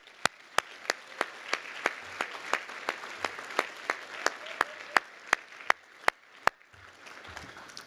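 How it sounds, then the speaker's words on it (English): At an awards luncheon the audience applauds the student ambassadors. Steady clapping from a room of people is punctuated by loud, evenly spaced claps from someone nearby, then tapers off near the end. "Let's give them a big round of applause."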